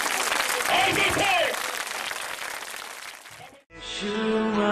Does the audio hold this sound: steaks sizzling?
no